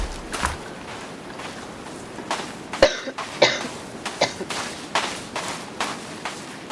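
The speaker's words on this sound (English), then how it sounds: "Sorry about the coughing." A person coughs repeatedly in short, sharp bursts spread across the moment, close and fairly loud over a quiet background with faint thumps.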